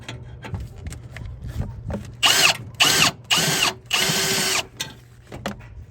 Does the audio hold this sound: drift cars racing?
no